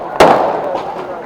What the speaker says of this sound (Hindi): आपको पटाखों की जो आवाज सामने आ रही है,